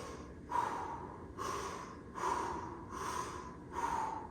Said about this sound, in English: you're going to take 4 deep breaths